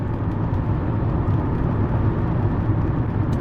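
Interior of a Mercedes 300SE W126 cruising on Highway 80 out of Truckee, a steady low engine and road rumble with tyre roar, continuous and even.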